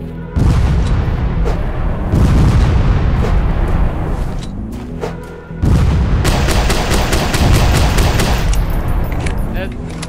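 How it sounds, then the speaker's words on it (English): Rapid, loud bursts of video-game explosions and gunfire crash in close succession with scarcely a pause, a brief dip midway before another dense barrage. "This is where you use grenades."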